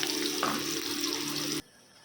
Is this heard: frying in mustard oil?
yes